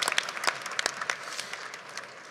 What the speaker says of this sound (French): Et je crois effectivement qu'on peut applaudir donc ce prix.